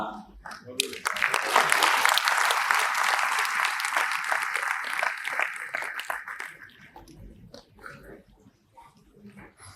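Audience clapping at an RSS talk on Chhatrapati Shivaji Maharaj in Indore, a dense burst of applause that swells early, holds for several seconds and then fades, with faint voices beneath.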